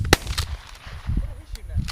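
A 12 gauge shotgun fired at doves on a hunt in Eatonton, Georgia, with a single sharp outdoor report near the start followed by a second fainter shot, amid low field noise.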